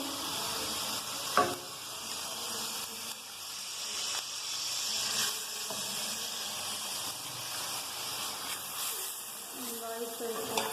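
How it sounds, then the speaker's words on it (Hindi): Ginger paste fries in a pan, giving a low, continuous sizzle and hiss with occasional stirring knocks. Faint background voice sounds appear here and there. "अब हम इसमें अदरक पेस्ट ऐड करेंगे।"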